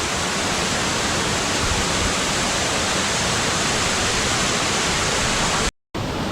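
A hidden waterfall in Kerala roars as a loud, steady broadband rush of falling water, continuous and close, with a brief cut to silence near the end and no talk.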